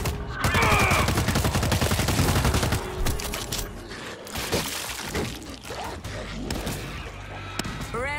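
Sustained gunfire and chaotic battle noise in the zombie shooter World War Z, set in Moscow, loud continuous bursts at first that thin into scattered shots and clatter.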